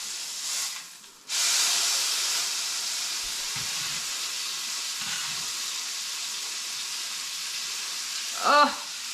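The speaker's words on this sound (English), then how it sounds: "now I'm not cooking it, I'm only searing it" Roast beef seasoned with steak spice searing in a hot pan, a steady loud sizzling hiss that persists throughout, with a brief quiet gap early and a small clatter near the end.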